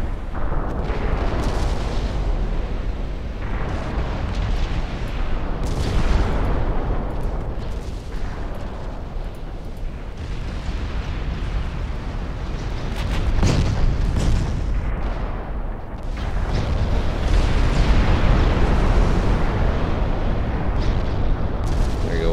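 Deep booming explosions and heavy gunfire roll through a naval battle in Ultimate Admiral Dreadnoughts, a dense, loud, continuous rumble with swelling blasts across more than twenty seconds.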